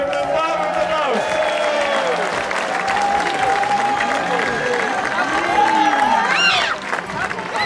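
Warm applause from a crowd lining a pole-sitting final, steady and sustained clapping with cheering over a host's amplified voice, swelling briefly near the end.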